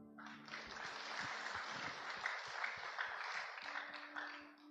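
Church congregation applauding a sermon mention of two cum laude graduates, a dense steady wash of clapping throughout at moderate volume, with a faint voice and a low hum underneath.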